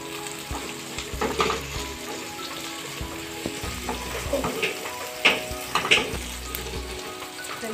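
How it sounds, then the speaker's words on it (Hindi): Chopped onions sizzle gently in a pan for a papaya curry, with a steady broad hiss broken by a few spoon-stirring scrapes and small clinks, close and moderately loud with no talking. "प्याज डालेंगे, इसे भी हम हल्का भूनेंगे, हमें ज़्यादा इसे जलाना नहीं है।"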